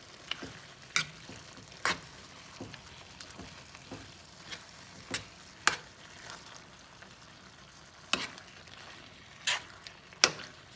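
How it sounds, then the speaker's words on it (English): Spicy eggplant coated in sriracha sauce simmering in a pan, a faint low bubbling hiss broken by sharp, irregular clicks and scrapes of a utensil against the pan. "I'm just gonna let this simmer a little bit longer."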